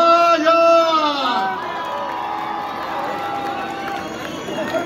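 Crowd at the San Joaquín carne asada festival applauding and cheering for a live band, a steady wash of noisy crowd sound following an amplified voice, with music tones lingering underneath.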